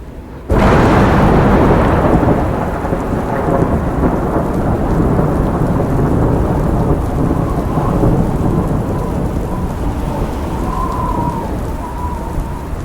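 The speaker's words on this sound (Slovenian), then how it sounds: "Stej grmi." A heavy thunderstorm with steady loud rain pounding down and low rumbling thunder rolling through, continuous and close, with no voices.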